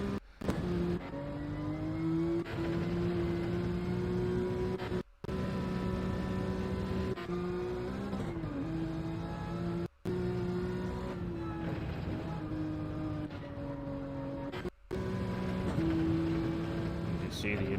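Porsche race cars circle a racetrack in a racing video game, their engines a steady, continuous droning whine with small pitch shifts, heard under a commentator's voice.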